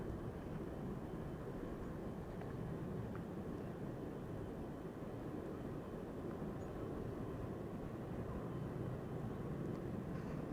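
Qatar Cargo Boeing 777 freighter departing Amsterdam Schiphol, a faint, steady distant jet roar with a low rumble that holds evenly throughout, with no voices.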